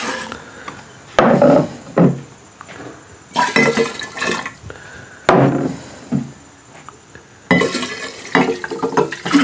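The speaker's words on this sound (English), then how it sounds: "So what I'm gonna do is I'm gonna mix this together." Pumpkin, brown sugar and bourbon ingredients mixed together in a bowl: irregular bursts of scraping and clattering, each lasting a second or two, with quieter gaps between them. The mixing sounds close and fairly loud, and no one speaks.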